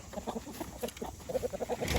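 Several chickens, laying hens with a few roosters, cluck softly and repeatedly nearby on grazed pasture, a busy run of short calls over a faint background hum.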